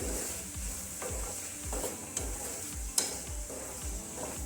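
Paneer bhurji with tomatoes fries on a low flame as a spoon stirs it in the pan, a soft continuous sizzle broken by rhythmic scraping strokes and an occasional tap against the metal.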